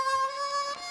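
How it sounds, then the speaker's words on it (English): Tongue-blocked chromatic harmonica holding a short, steady reedy note with rich overtones, close and clear for under a second, unaccompanied by speech. "Here is the identical phrase tongue blocking"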